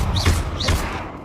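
Confringo fire spell in Hogwarts Legacy, two quick whooshing blasts with soft low thuds, close and moderately loud, spaced about half a second apart.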